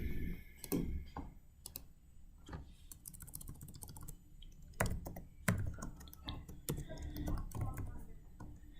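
Computer keyboard typing while renaming a shape in MLS software, with irregular bursts of close, crisp key clicks and brief pauses between groups of strokes.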